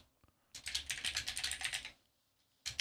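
Rapid computer keyboard typing of a folder name during compositing work in DaVinci Resolve Fusion, a steady burst of close keystrokes for over a second, then a brief pause before typing resumes.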